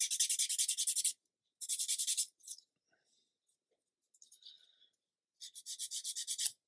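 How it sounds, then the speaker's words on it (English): Abrasive stick sanding a wooden cocktail stick to a point: brisk, rapid rasping strokes in three bursts, close and clear, with short quiet pauses and faint scratching between them. "we're going to take an abrasive stick and we're just going to sand"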